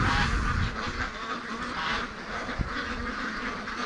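Muscovy ducks and geese on a free-range farm, with dense, continuous quacking and honking calls filling the air at close range, a busy flock with a brief sharper knock near the end.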